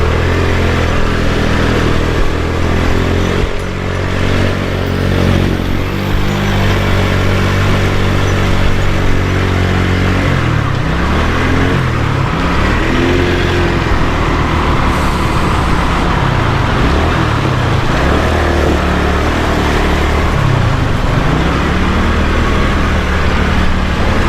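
A motorcycle engine drones loudly and continuously through flood water on a rain-flooded Karachi street, its pitch rising and falling as it pushes on, with a constant rushing wash of water around it.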